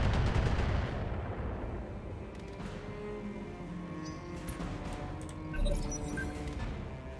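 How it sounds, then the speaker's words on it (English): A missile barrage in the BattleTech video game roars in rapid heavy booms and rumbling blasts, loud and dense at first and then settling into continued distant explosions. "That is a whole lot of missiles"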